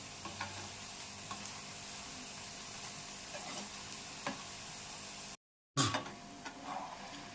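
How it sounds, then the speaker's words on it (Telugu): Onion pakoda sizzling in bubbling hot oil, with a steady crackling hiss and occasional soft scrapes as the fritters are gently stirred; a brief dropout interrupts before the frying resumes close and clear. "మనకి ఆయిల్ అంతా ఇలాగా పొంగుతుంది కదా. ఇలా పొంగుతున్నప్పుడు మనకు కాలుతున్నట్టు మెల్లగా మనం కలుపుతున్నామండి."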